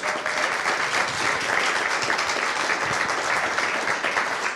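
Audience applause after a live electronic music performance built with VCV Rack, a dense, steady wash of many hands clapping that fills the room without a break for several seconds, no voices audible.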